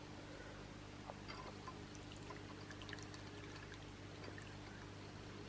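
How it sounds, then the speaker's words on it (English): Brewed drink being poured into a pot, a faint, soft liquid trickle over a steady low household hum, quiet and continuous with no talking. "I think that will have brewed by now. Let's get some in the pot."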